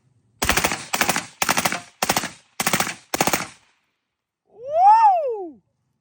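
Six rapid bursts of rifle gunfire from a Battle Arms rifle fitted with a Delta Team Tactical forced reset trigger and a Silencer Shop suppressor, each burst a quick string of evenly spaced shots, loud and close, followed by a shouted whoop.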